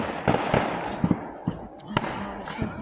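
Firework mortars explode outdoors in a string of sharp, booming bursts at uneven intervals, loud and fairly close, with crackling between them and a person reacting in the background.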